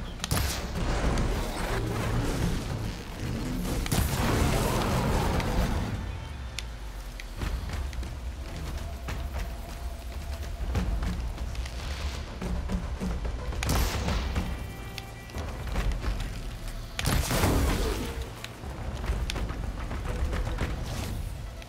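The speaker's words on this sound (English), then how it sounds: "Let's shoot them cannons off." Cannons firing in the Horizon Forbidden West video game, a series of loud booming blasts with dense rumbling explosions recurring through the clip, with no talking.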